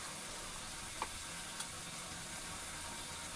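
Ginger and garlic sizzle in a hot pan with tomatoes, onions and mutton, a steady broadband frying hiss throughout with a couple of faint clinks.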